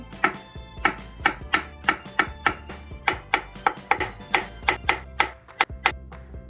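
A knife cuts a very ripe peeled banana into thick 1.5 cm pieces, about twenty crisp knocks on a cutting board in a quick, steady rhythm, close and clear with no talking.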